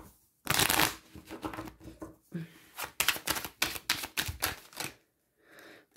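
Oracle cards are shuffled by hand up close in a series of quick, loud riffling bursts and rapid papery flutters, with short pauses between them and a quieter rustle at the end.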